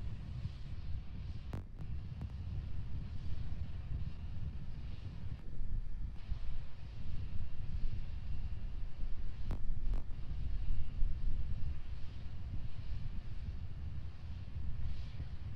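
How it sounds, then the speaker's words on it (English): A SpaceX Starship prototype (SN8/SN9) climbs toward 10 kilometers on a single engine, heard as a steady, distant low rumble and roar with a few sharp clicks and pops, continuous throughout. "Starship now climbing on the power of engine number 1, headed to the 10 kilometer altitude"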